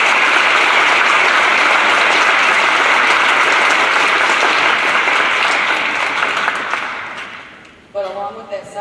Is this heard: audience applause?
yes